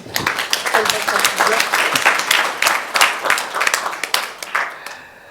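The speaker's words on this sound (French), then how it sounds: "Je crois qu'on peut remercier nos invités, les applaudir encore une fois" An audience applauds round-table guests, with dense sustained clapping from a crowd indoors that fades out near the end.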